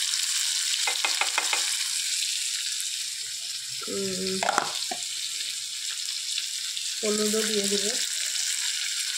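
Potatoes fry in oil with a constant close sizzle, a few quick stirring taps early, and someone speaking briefly twice over the frying noise.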